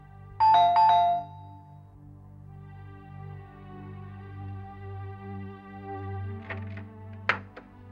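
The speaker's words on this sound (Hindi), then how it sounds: "रिंग हो रही है, कोई फोन ही नहीं उठा रहा है।" A telephone rings on and on with no one picking up, a bright electronic ring that repeats over a low hum and ends with a sharp click.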